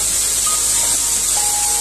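Onions sizzle in hot oil in a pan during stir frying for a Ghana meat pie, a loud, steady, close hiss with faint clinks.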